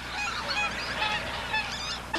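A large flock of white-fronted geese honks continuously at a lake, many overlapping calls at a moderate distance, dense and steady throughout.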